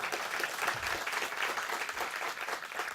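An audience at a municipal public hearing applauds steadily, a dense, even wash of many hands clapping for three seconds without pause.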